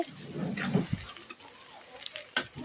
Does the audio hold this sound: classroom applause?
no